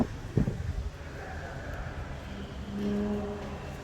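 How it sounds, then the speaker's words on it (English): Wind gusts across the open grounds of the RIU Cancun resort, a steady close rumble of buffeting against the microphone, rising toward the end. "Ooh, it is windy."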